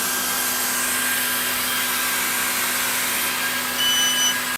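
A laser cutter with air assist cutting MDF gives off a steady broadband hiss of rushing air with a faint mechanical hum, continuous and fairly loud, and a thin high whine joins near the end.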